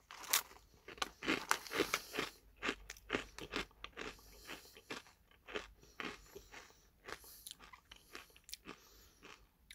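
Someone bites into a crispy, salty, slightly toasted green biscuit and chews it close up, with a burst of loud crunches at first that settle into a steady run of softer crunching and chewing.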